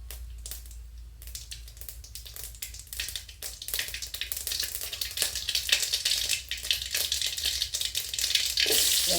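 Mustard seeds crackle and sizzle in hot oil as a tempering for Kongu Nadu style rasam, a dense steady frying hiss with scattered pops that grows louder toward the end, with no talk.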